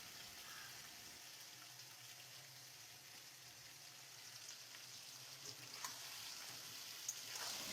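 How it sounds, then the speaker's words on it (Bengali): Onion and potato frying in oil in a pan, a faint, steady sizzle and crackle with a few small pops, heard alone. "তো পেঁয়াজটা হালকা করে ভেজে তারপরে আলুটাও দিয়ে দিলাম।"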